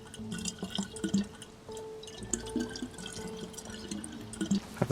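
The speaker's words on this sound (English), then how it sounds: "my plan was to fill up the water bottle and stay as hydrated as I can" Water pouring and dripping as a bottle is filled at a well in the video game DayZ, a steady trickling splash with small clinks, fairly close and alone, no talk.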